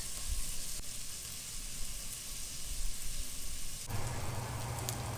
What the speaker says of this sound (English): grate in my fresh ginger and turmeric